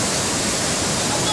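Dudhsagar waterfall roars below a railway bridge as a steady, loud, broadband rush of falling water that fills the whole moment without a break.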